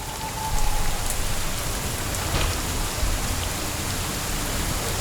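Steady rain falling in the video game Skyforge, near a valley temple: a dense, even hiss of drops on surfaces that runs throughout, with a faint low rumble under it and a brief tone near the start.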